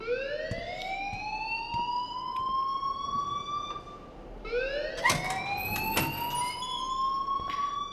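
A rising, wailing alarm in the video game Life is Strange sweeps upward twice in long tonal whoops, loud and continuous, with faint clicks around it and no talking.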